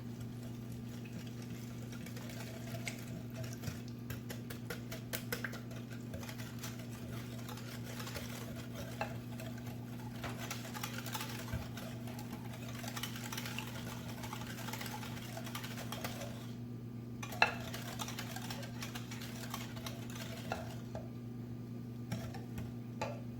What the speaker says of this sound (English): I'm going to mix it well.